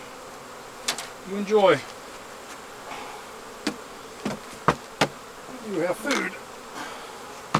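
Honey bees buzzing close by at a hive, with scattered sharp clicks and taps and a person speaking softly in between.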